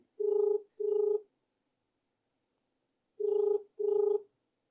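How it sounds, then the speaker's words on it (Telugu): A telephone rings in two pairs of short double rings separated by a pause, clear and fairly close, with no talking. "ఫోన్ అయితే రింగ్ అవుతుంది"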